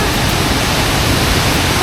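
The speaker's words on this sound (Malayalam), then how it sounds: "വാട്ടർഫോൾസ് ഭയങ്കര സ്ട്രോങ്" A strong waterfall roars loudly and close by as a dense, unbroken rush of water noise.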